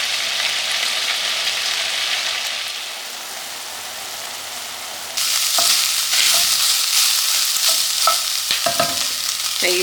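Soup ingredients sizzle and fry in a pan, a steady close hiss that drops briefly and then returns louder, with scattered pops and scraping stirs in the second half.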